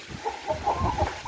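Chickens cluck softly in a run of short, repeated notes, fairly faint and close, with low background rumble and no voices.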